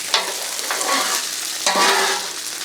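Pork fried rice scraped across a hot Blackstone griddle with a spatula, giving two quick, close metallic scrapes over a steady sizzle, no voices.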